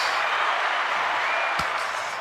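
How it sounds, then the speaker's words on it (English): A room full of people claps in a steady wash of applause that stays even and fairly loud throughout, with one sharp knock partway through. "let's give everybody a round of applause."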